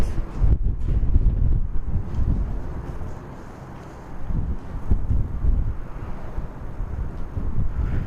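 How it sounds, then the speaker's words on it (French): Heavy wind buffets the microphone in loud, low rumbling gusts, easing briefly in the middle before surging again. "Désolé pour le vent, j'espère que vous m'entendez bien."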